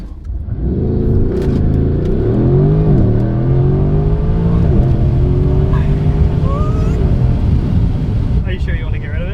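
A car launches at full throttle, the loud engine climbing steadily in pitch as it accelerates, heard from inside at close range, with voices talking over the roar.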